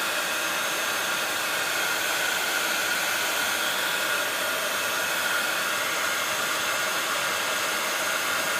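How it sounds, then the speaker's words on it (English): A heat gun blows steadily to dry mica powder, a constant loud whooshing hiss of hot air with no breaks and no talking. "So I'm using my heat gun."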